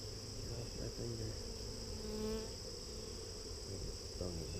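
Steady insect buzzing of honey bees during a hive inspection fills the clip, a continuous close drone with a few louder passes near the microphone.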